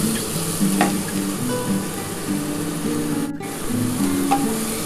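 Beetroot mash is stirred and fried in a pan, a steady close sizzle running throughout with repeated scraping strokes of the spatula and no talking.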